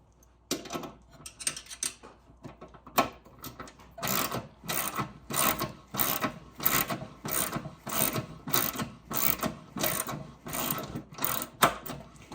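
A washer and nut are tightened on the base of a RipRow v2 rowing machine, giving rapid repeated ratcheting clicks in steady bursts that run almost continuously, close and fairly loud, with no speech.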